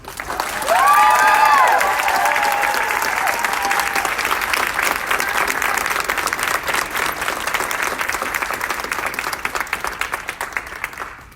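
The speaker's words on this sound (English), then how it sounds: "could you all just give her an amazing round of applause?" A large audience applauds steadily for several seconds, dense clapping filling the room, with a few faint cheers near the start.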